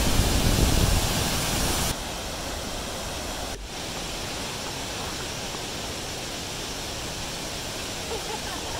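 Twin Falls at Rock Island State Park in Tennessee pours in a dense, steady roar of rushing water, broadband and constant, louder in the first two seconds, with faint voices under it.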